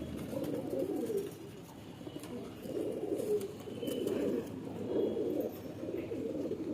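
Pigeons in a loft cooing in soft, low, rolling phrases that swell and fade about four times, close by with light background noise.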